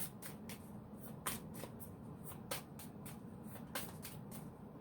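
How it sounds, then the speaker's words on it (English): Tarot cards are shuffled close by in a quiet, steady rhythm of soft riffling bursts, repeating about every second with no talking. "It's going to be really hard to shuffle."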